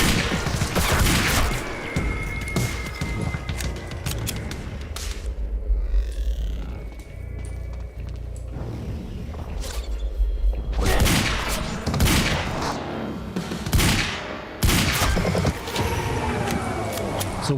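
Gunfire in a Remedy action video game: a dense burst of sharp shots up front, then a lull of lower rumble and effects, followed by more loud, separate shot-like blasts near the end over continuous game noise.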